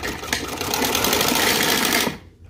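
A sewing machine runs steadily, stitching hosiery T-shirt fabric in a home setting; a continuous close, even whirr lasts about two seconds before stopping abruptly.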